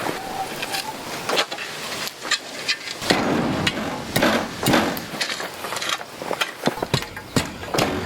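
Repeated sharp hammer strikes while building a duck coop, irregular and fairly close, with some scraping and clattering between blows.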